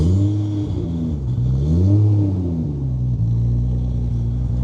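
A 700-horsepower Toyota Supra engine at a Tokyo tuning shop, idling deep and steady, then revved in a couple of sharp rising and falling blips before settling back to a rough, lumpy idle, close and alone.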